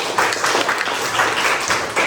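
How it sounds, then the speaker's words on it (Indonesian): Steady, loud applause from a group of people in a classroom, continuous and close throughout with no talking over it. "Ya, beri tepuk tangan dulu."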